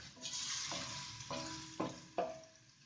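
Garlic frying in a pan hisses steadily for a few seconds, broken by three or four quick scrapes of a spoon against the pan.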